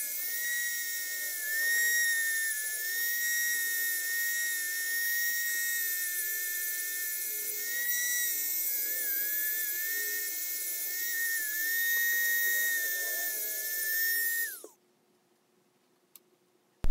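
A Dremel rotary tool whines at a steady high pitch while cleaning slide rule cursor frames. The close, continuous buzz holds for about fifteen seconds with slight pitch dips under load, then cuts off abruptly into near silence.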